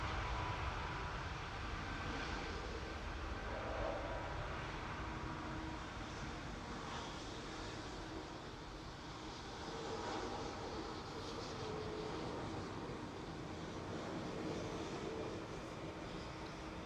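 A heavy jet taxiing at Manchester Airport, heard as a broad, steady engine roar that holds fairly constant throughout, at moderate distance with no voices.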